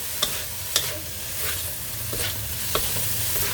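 Kimchi fried rice being stir-fried in sesame oil, with a steady sizzle and several sharp spatula scrapes against the pan, close and fairly loud, without talk.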